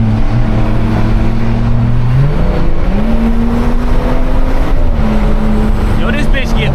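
Turbocharged stock BMW 540 of about 600 horsepower pulls hard on a highway, heard from inside as a loud, steady engine drone that rises in pitch through gear changes under heavy road and wind noise.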